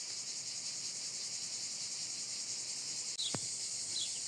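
Loud, steady cicada chorus in southern France, a dense continuous rasping buzz with a brief bird chirp near the end.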